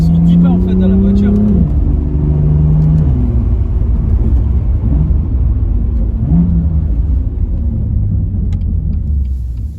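A BMW M2 engine rumbles loudly from inside the moving car, its deep drone shifting pitch as it revs and changes gear, with people talking over it.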